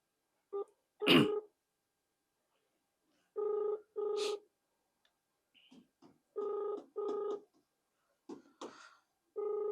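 A phone rings unanswered while a call is placed to a district medical and health officer: quiet, evenly spaced pairs of ringback tones repeating over silence, with faint shuffling between them.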